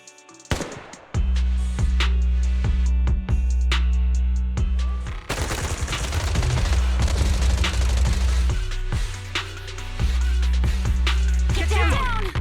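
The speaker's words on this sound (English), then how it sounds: "Gunfire? This pattern. Suppressive marching fire." Rapid suppressive gunfire in the Zenless Zone Zero video game, loud bursts of automatic shots and booms over a low droning score, continuing in waves throughout with brief gaps and a faint voice in places.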